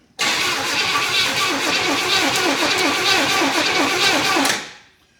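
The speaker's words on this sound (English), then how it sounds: "Okay, let's crank it a little longer. Let's listen to the cranking." A 1977 Pontiac Grand Safari station wagon engine, abandoned for thirty years, cranks steadily on the starter with an even rhythmic churn, loud and close, for about four seconds before cutting off.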